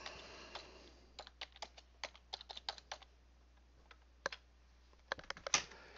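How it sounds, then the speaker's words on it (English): Keys tapped on a computer keyboard in bursts of quick, crisp clicks with short pauses between runs, close and clear against a quiet room. "if we go in here and we type in NEMS Tools"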